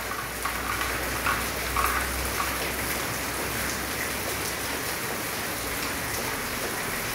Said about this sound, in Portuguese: Olha a chuva, olha a chuva.